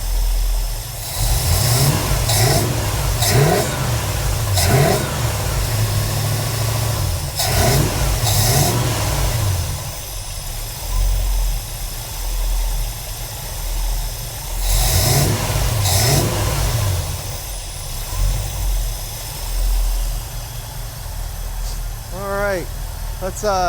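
A 1965 Ford Galaxie hardtop's FE V8 engine idling with a deep rumble and rising in several loud revs, close by, while people talk over it.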